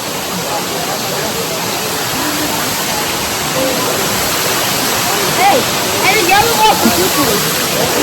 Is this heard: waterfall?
yes